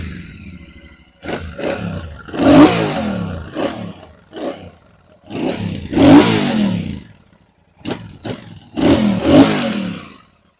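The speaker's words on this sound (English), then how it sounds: "we'll start it up and have a listen to that beautiful exhaust note straight out the box" A Super Meteor 650 motorcycle with its stock exhaust, just started, revs in repeated loud bursts: several rising and falling throttle blips separated by brief idle dips, close and with no talking.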